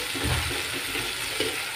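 Tomatoes and coconut for mint chutney sizzle in a pan, a continuous bright hiss with soft low bumps of stirring now and then.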